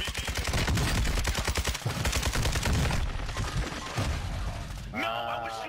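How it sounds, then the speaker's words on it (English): Video game gunfire crackles in dense, rapid automatic bursts, loud and continuous for several seconds, with a brief voice near the end. "I was shooting him in the face."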